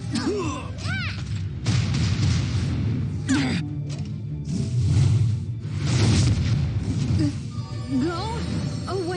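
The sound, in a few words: bomb explosions in video game Epic Seven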